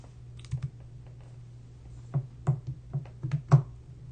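Keyboard clicks from typing on a computer, sparse taps at first, then a quicker burst of keystrokes over a steady low hum, close and fairly soft.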